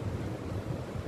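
Ocean waves washing onto Pengeraguan beach in Jembrana, Bali, a steady low rumbling surf mixed with wind buffeting the microphone, continuous with no voices.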